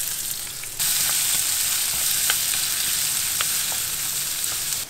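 Sliced onion drops into hot oil with dried red chillies, breaking into a loud, steady hiss of frying that holds evenly, dotted with small pops and crackles.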